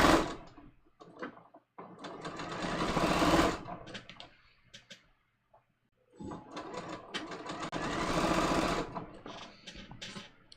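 A sewing machine understitching the facing of a dress runs in two long bursts of rapid mechanical stitching, separated by a quiet pause with a few small clicks.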